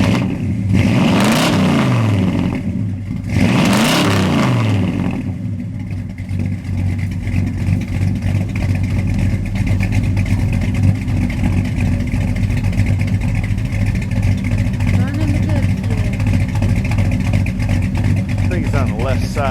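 A Pontiac Firebird engine revs twice in quick surges, then settles into a loud, rough, steady idle up close, with a possible wiring fault; people talk nearby.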